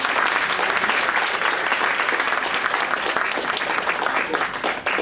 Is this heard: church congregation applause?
yes